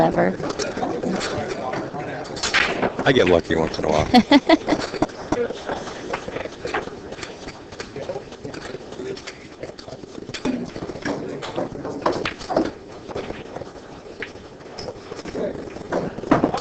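Pigeon or dove cooing in a pool hall during a 2013 professional nine-ball match, a soft repeated coo mixed in with steady commentary and crowd murmur.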